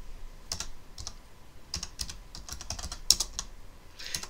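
Search terms typed on a computer keyboard, a close, irregular run of crisp key clicks in small bursts with short pauses, including one sharper press, heard alone.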